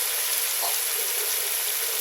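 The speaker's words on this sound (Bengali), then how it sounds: "এখন এখানে আমি দিয়ে দেবো ডিমটা মশলাটার সাথে আমি ভালো করে একটু কষিয়ে জাল দিয়ে নেব।" Eggs fry in spice masala in a pan for egg biryani, a steady close sizzle running unbroken without any talk.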